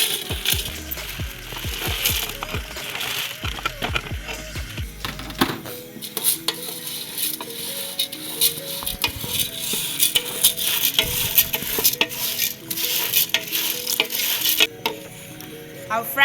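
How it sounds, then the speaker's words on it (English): Soya beans sizzle and fry in a pot while being stirred, with steady frying hiss under frequent scraping, clinking stir strokes throughout, close and fairly loud, no talk. "Transfer it to the pot and fry it."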